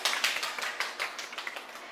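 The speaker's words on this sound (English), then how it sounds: "Let's give her a hand clap." A short burst of hand clapping, a few people applauding briefly at moderate volume, thinning out toward the end.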